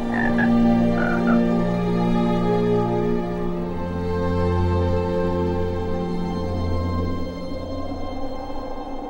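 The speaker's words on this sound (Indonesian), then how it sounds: "Maka berakhirlah nasib Bimo, si katak yang sombong itu." Frogs croak continuously in a dense, droning chorus, loud and steady, with a few sharper calls standing out near the start.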